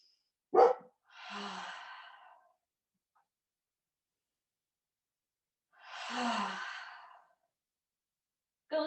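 A dog gives a single sharp bark, with another bark cut off at the very end, during a home yoga session. Two long, breathy exhalations fill the quiet gap between the barks.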